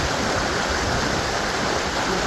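Fast-flowing mountain river roaring close by in a dense, constant rush of water, loud and unbroken.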